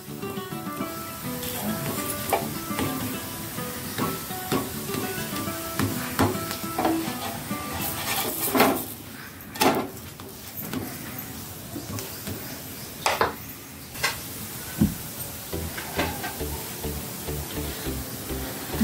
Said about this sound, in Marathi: तर मध्यम गॅसवर मस्त शेकून घ्यायची थालीपीठं सर्व.